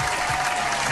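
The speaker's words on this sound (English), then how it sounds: "Clap it up for Danielle." A short burst of applause for a caller on a morning radio talk show, brief and fairly steady, likely a dropped-in sound effect.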